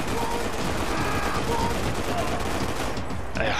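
Dense, continuous automatic gunfire from the shooter game Max Payne 3, a loud unbroken rattle of rounds that fills the whole stretch with no gaps, with someone talking over it.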